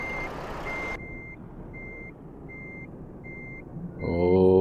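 A heavy-haul truck in Euro Truck Simulator 2, a Volvo FH16, sounds its reversing alarm as a steady run of evenly spaced beeps over low engine rumble, then the engine swells louder at the end.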